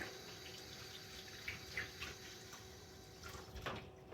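Tap water runs steadily into a sink during handwashing in a home kitchen, a faint, continuous splashing hiss with small bursts of spatter.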